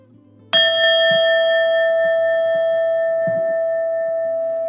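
A single meditation bell is struck once near the start, a bright clear tone with a long, slowly fading sustain, sounding alone with only faint low background noise beneath.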